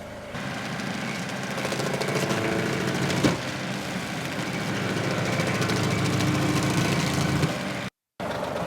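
A swing-type stump grinder engine runs steadily at full throttle for several seconds, a loud droning roar with a brief sharp knock partway through.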